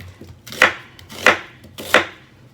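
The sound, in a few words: knife chopping vegetables into big chunks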